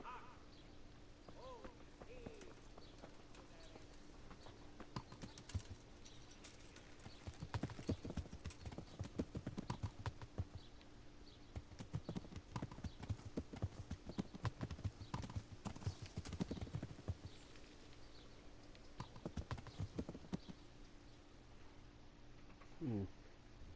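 Horse hooves clip-clop on the ground in the video game Kingdom Come Deliverance, with rhythmic bursts of trotting that start and stop and a brief whinny, under occasional talk.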